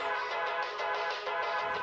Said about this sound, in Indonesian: Single speaker itu bikin suaranya kayak gini nih.